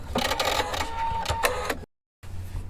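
Husqvarna sewing machine running with an edge stitch foot, a quick mechanical stitching whir in steady bursts, close and clear, cutting out briefly before starting again.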